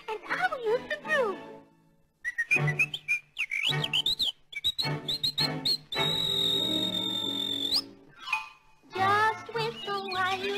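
A bright, melodic whistled tune with quick trills and one long held note, interleaved with a singing voice.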